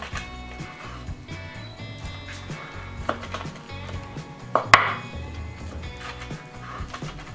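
A knife slices meat on a cutting board, making soft, irregular taps and cuts. A couple of sharper knocks stand out over a low, quiet background.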